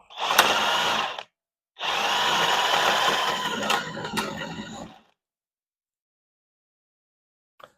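A DeWalt cordless impact tool runs a nut tight on a bolt in two bursts, a short one then a longer whirring, hammering run with clacks, followed by silence and a tiny click at the very end.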